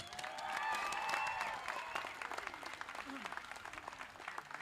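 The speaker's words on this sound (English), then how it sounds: "Let's give them another round of applause for all their hard work and dedication." Applause from the crowd at a school commencement ceremony, dense and loudest in the first two seconds, then thinning, with some voices and whistle-like tones mixed in.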